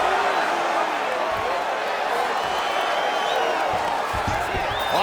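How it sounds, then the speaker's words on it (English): Arena crowd roaring and cheering throughout a mixed martial arts bout in a fighting video game featuring Oliveira versus Gaethje, a dense, steady wash of loud crowd noise with scattered shouts. "crowd absolutely loving it"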